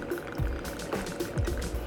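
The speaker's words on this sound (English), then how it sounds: "we're actually just going to go ahead and pour our mixture straight into the glass" Cocktail mixture of barrel-aged rum and habanero syrup pours into a glass in a short, close, gurgling splash that lasts under two seconds, over a steady room hum.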